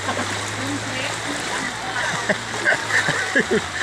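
Floodwater in front of a house sloshes and splashes, with a few short splashes standing out over a continuous watery background and a low hum, while voices talk nearby.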